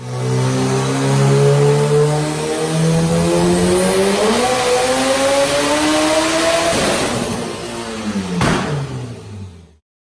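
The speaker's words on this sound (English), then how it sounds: "So this is what it looks like on the dyno, making that kind of power." A high-horsepower turbo car on a dyno, loud engine revving with rising and falling pitch through the gears, ending in a sharp pop before cutting off.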